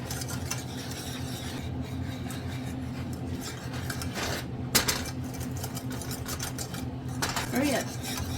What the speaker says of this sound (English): It says to stir it constantly for 1 minute.